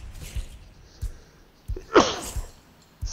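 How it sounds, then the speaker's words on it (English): A single sharp sneeze bursts out mid-clip from a player during a dragon-riding game session, loud and close, with faint clicks and low thumps scattered around it. "I sneezed"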